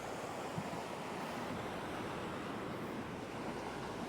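Sea waves wash continuously onto the shore at Kalmunai on the eroding coast, a steady broadband roar with wind noise and no distinct breaks or voices.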